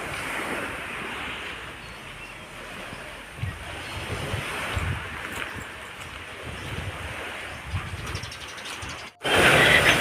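Surf washing and rolling on a sea beach under gusty wind buffeting the microphone, fairly steady and moderately loud, ending in a sudden loud burst of wind noise.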